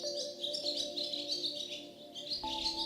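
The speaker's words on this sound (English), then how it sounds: "the family heard a familiar birdsong" Birdsong: bright, repeated chirps and tweets sung in quick phrases, fairly faint against a quiet outdoor background, with no talking.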